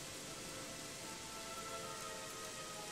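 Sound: rain falling in the video game Gothic 3

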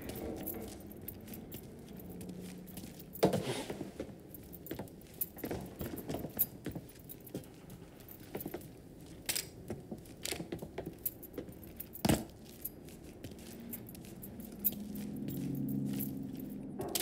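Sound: keys being picked up in video game Mafia 3

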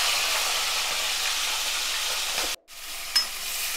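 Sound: prawns frying in oil

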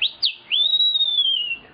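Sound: man whistling an imitation of a bem-te-vi bird

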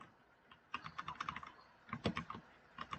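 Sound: computer keyboard typing

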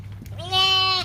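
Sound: sheep bleating on a farm

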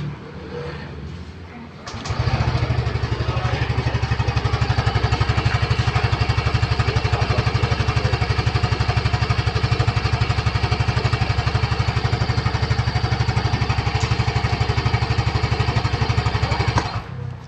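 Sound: Yamaha Gear 125 Type S 2022 scooter engine running

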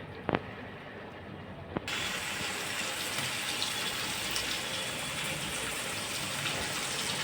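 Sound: water poured into cooking pot

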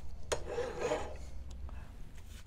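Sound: filing square wire held in a vise

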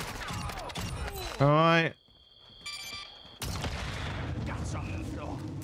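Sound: shotgun fire in video game Call of Duty DMZ

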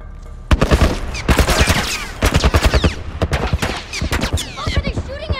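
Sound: military turret gunfire in The Last of Us video game

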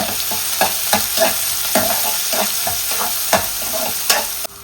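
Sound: capsicum and carrot being stir-fried in a pan

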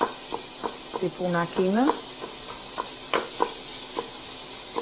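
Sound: minced meat and onion frying in a pan

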